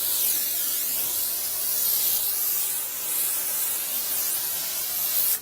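Continuous close-up spraying hisses onto the bottom of a hypertufa bowl, a steady airy spray lasting several seconds before cutting off abruptly.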